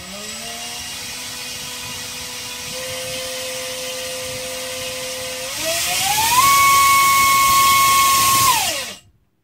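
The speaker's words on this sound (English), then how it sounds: "here's the 4000 kV motor with the HQ prop" A DYS 1306 4000kV brushless motor spins an HQ propeller with a steady, close, high-pitched whine. It then revs up to a louder, higher pitch for a few seconds before abruptly winding down to silence.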